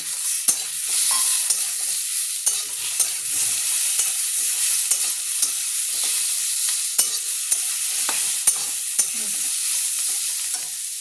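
Shrimp rubbed with salt and turmeric are stirred and fried in a pan, a bright hissing sizzle punctuated by repeated sharp taps and scrapes of the spatula, steady and close.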